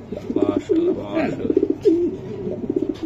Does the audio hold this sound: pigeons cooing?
yes